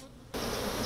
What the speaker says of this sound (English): The buzzing of bees